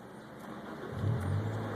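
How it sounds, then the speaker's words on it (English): A car fitted with an aftermarket keyless push-button start turns over and catches, the engine rising into a steady low idle, moderately loud and close. "starts my car."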